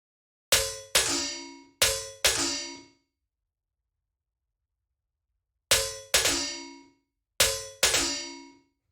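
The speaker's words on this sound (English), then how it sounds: "she'll have the snare play something like this, where it's kind of like pitching down" Sharp metallic snare hits in quick pairs, pitching down, the second of each pair lower in pitch, with ringing tails and a pause between groups; a metallic snare.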